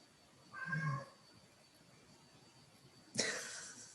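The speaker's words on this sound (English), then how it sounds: "Cute little kitty cat." A cat gives two faint meows, one short and soft, then a sharper one about two seconds later, heard against a quiet background.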